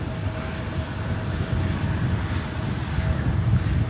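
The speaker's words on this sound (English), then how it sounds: "we got that Southwest flight up next." Steady roar of a Southwest Airlines jet airliner at LAX, a broad close engine rumble that holds even and slightly builds, with no voices.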